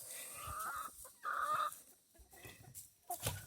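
Chickens cluck softly in short bursts around a quiet off-grid cabin setting, fairly faint with low background noise and no talking.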